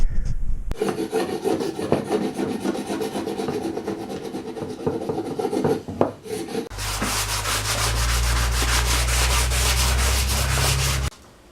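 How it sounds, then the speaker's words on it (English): A hard wooden axe handle being scraped and then sanded by hand: a steady rasping rub runs through the first half, then a louder, continuous coarse sanding drone fills the second half, close and with no talk. "I scraped it and then I sanded the crap out of it"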